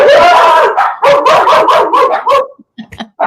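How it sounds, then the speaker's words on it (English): Several dogs barking and yipping together in a loud, rapid, overlapping burst, some calls drawn out toward howls, then trailing off into a few scattered yelps. "And the dogs agree."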